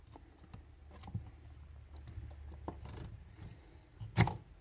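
A lock pick rakes across lock pins: faint scattered metallic clicks and scratchy skimming taps at an irregular pace, close up, ending in one sharper louder click.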